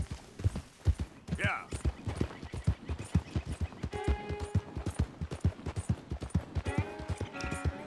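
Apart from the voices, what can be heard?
horse riding in video game Red Dead Redemption 2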